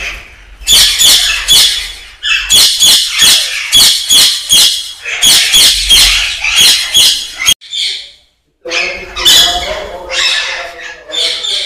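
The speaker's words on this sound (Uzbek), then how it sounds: "Bu yoqda ham juda chiroyli qushlar bor." Many birds squawk and chirp in dense, overlapping bursts at a large bird nursery in Namangan, loud and close, with a brief lull near the end before the calling resumes.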